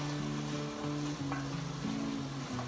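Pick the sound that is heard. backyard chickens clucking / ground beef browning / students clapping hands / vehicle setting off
ground beef browning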